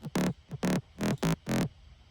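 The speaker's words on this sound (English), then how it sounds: "The second bass layer sounds like this." Second bass layer of a future rave track, saturated and sidechained, in five thick, buzzy pulses that duck rhythmically between hits, loud and close with nothing else over it.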